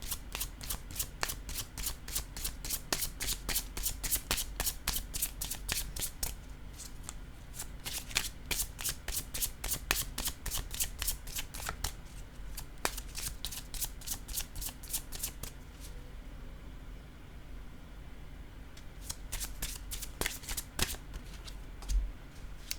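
A deck of tarot cards is shuffled repeatedly, quick riffling flutters in rapid bursts with short pauses, close and crisp against quiet room noise.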